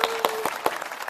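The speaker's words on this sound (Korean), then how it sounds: "박수!" A children's congregation at a Korean church preschool worship service breaks into a short, lively burst of clapping, with many small hands beating together in quick, uneven slaps that fill the room.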